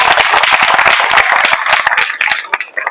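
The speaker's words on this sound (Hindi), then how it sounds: "एक ताली बजाइए जोरदार।" Applause and clapping from an audience of children at a quiz competition, a dense burst of many hands that stays loud, then thins out into scattered claps near the end.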